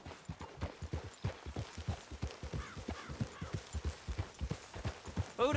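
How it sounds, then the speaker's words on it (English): Horse hooves clip-clopping at a steady walking rhythm in a video game, quiet and close, with crow caws faintly in the background. "Grab your horse and let's go."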